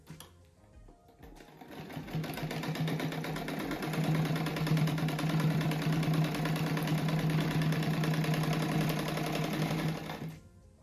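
Sewing machine stitching the top and bottom edges of a handmade rug, a steady close whirring drone that starts after a second of quiet, runs evenly for about nine seconds and stops abruptly.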